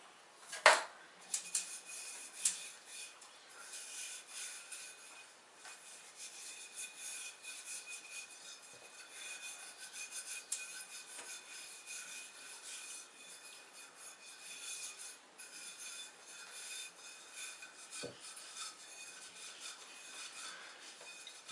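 A nylon brush scrubs a Corvair wire wheel hubcap, making a soft, steady, close rubbing and scratching that continues throughout, with a few faint clinks near the start.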